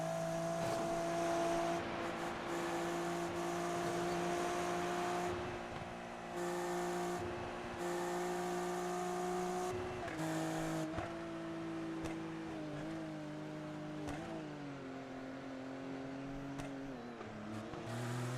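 A Porsche race car engine in the iRacing sim at Bathurst drones steadily at high revs, holding a sustained tone with several gear changes and pitch dips, loud and continuous for the whole stretch.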